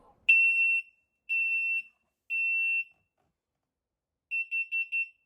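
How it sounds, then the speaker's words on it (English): A Matter-over-Thread smoke alarm's test siren: a loud, piercing electronic tone sounds in three long blasts, then a pause, followed by four quick short beeps. "I'll just do a quick test, so fair warning, the siren is loud."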